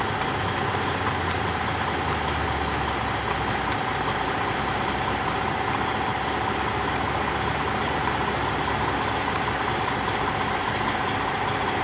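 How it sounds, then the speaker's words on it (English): A truck engine idles steadily in a truck stop parking lot, a constant low rumble and hum with no breaks, heard from nearby with faint background noise. "Now this truck right here is running."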